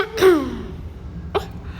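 A person gives a short throaty cough, then a second smaller one about a second later, close and alone against quiet room noise.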